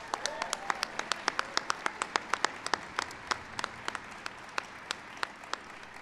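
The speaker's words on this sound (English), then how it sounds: "Give them a big round of applause." Light, scattered applause from a small outdoor crowd at a Wounded Warrior Project Soldier Ride event, with distinct individual claps popping out near and irregular over a soft background of hand-clapping.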